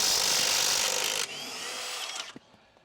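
A Milwaukee M12 stubby 3/8 cordless impact wrench works loose tight lug nuts, a loud sustained whirring hammer that drops in pitch partway through, then winds down and stops.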